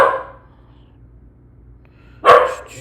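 Lucy Lou, a dog indoors, lets out a single loud, close bark near the end, following a fading earlier yelp and a stretch of near silence.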